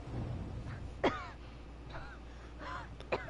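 A character in the video game Wuchang: Fallen Feathers coughs a few times, giving short, rough bursts spaced apart over a low steady background hum, fairly close.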